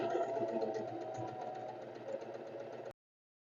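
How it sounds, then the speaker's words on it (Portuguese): A sewing machine runs steadily while stitching a sleeve seam with black thread, a continuous mid-pitched mechanical whir with a light rattle, close and alone, stopping abruptly just before the end. "No caso da minha máquina aqui, 3 pontinhos, tá? E aí a gente vai subir novamente essa costura aqui."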